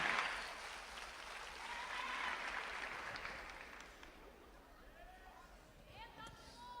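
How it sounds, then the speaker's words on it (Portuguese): Church congregation applauding a pastor at an evening service, a full crowd of clapping that gradually thins out, with voices emerging near the end. "Vamos receber o servo de Deus com um aplauso."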